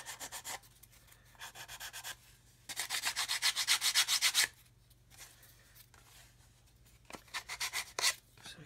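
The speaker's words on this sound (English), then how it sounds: "So again, we can sand along here." Sandpaper rubs back and forth along the leading edge of a model aircraft wing, in close bursts of quick rasping strokes separated by short pauses.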